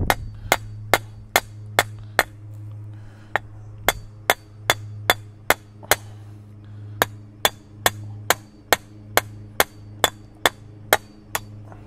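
Hammer blows drive rebar stakes into the ground beside a raised garden bed, a steady series of about twenty sharp metallic strikes, close and regular with brief pauses, over a low constant hum.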